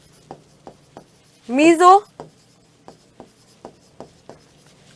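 A pen writes on paper in a nursing entrance biology lesson, giving short regular scratchy strokes, about nine evenly spaced, fairly close and clear, with a brief burst of voiced speech in between.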